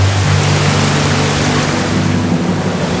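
Heavy storm rain pouring down in a dense, unbroken hiss, loud and close, with a low rumbling undertone beneath it.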